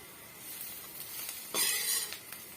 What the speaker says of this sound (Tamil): வெங்காயம் நல்லாவே வறுபட்டு வரட்டுங்க